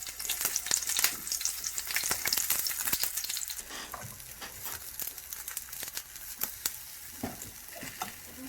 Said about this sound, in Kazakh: Қыздар, міне баклажанымызды қуырдық, баялдымызды.